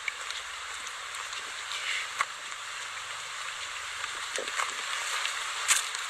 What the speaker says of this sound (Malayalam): മഴ പെയ്യാൻ തുടങ്ങി.